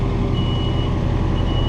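A John Deere 4066R compact tractor's backup beeper sounds loud and close as a rapid steady electronic beeping, with the engine rumbling continuously underneath.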